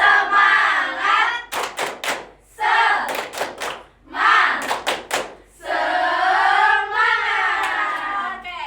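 A classroom of children performs a rhythmic clapping chant, with bursts of sharp, sharply timed claps alternating with voices chanting together in unison.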